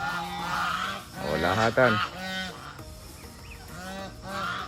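Geese on a farm selling birds honk repeatedly in loud, nasal bursts, close by, with a person talking between and over the calls.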